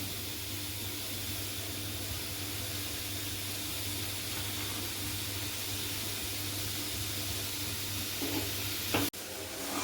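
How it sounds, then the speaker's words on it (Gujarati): Grated carrots for carrot halwa sizzle steadily in ghee in a pan, a continuous even frying hiss at moderate level, with a brief clatter and pause near the end. "મસ્ત ઘીમાં એકદમ શેકી લેવાનું."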